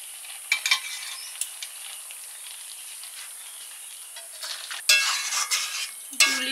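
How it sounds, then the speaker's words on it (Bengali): Drumstick stalks (sajne data) cooking in a pan, with a soft frying sizzle under intermittent scraping and clinks of a utensil stirring against the metal. "সজনে ডাঁটা রান্না।"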